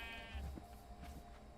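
A sheep in the Minecraft video game gives a single short bleat, clear and close, with no talk over it.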